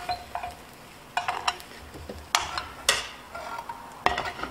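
Spanish omelette cooking in butter in a pan, a faint soft sizzle broken by a few light scrapes and taps of a utensil, quiet and close with no talking.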